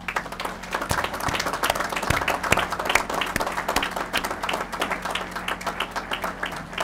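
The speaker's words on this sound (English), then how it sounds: "I want to thank you and ask that everyone give you a round of applause." Steady round of applause from an audience for General Tackett at a bridge dedication ceremony, dense clapping with some sharper individual claps, moderately loud and continuous.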